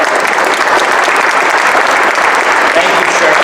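Dense, sustained applause from an audience at a Fight for $15 rally for nursing home caregivers, loud and continuous clapping throughout.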